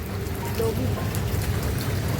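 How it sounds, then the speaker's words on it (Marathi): Steady rain falls, a dense continuous patter and hiss with a low rumble underneath, fairly loud throughout. "परत पाऊस यायला लागला आणि आम्ही फुल भिजलो आहे."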